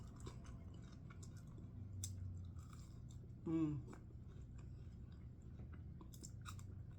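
Soft crunchy chewing of crispy homemade french fries continues close to the microphone, with one brief louder burst partway through and faint background noise throughout.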